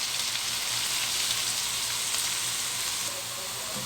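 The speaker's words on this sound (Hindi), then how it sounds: "अब हम इसमें प्याज डाल रहे हैं। मैं इसे फ्राई करूँगी 2 to 3 मिनट्स" Onions sizzle steadily in melted butter and oil in a pan, a dense, even hiss that stays loud and close for the whole stretch, with no voices over it.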